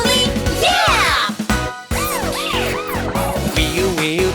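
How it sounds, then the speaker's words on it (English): A cartoon police car siren inside a children's song, rising and falling wails repeated several times over loud music, up close and prominent. "Wee-oo, confident police cars."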